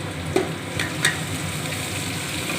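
Ginger paste and tomato sizzle in a pan as they are stir-fried for a vegetarian cauliflower and potato dish, a steady soft frying hiss with a few light stirring clinks, close and alone.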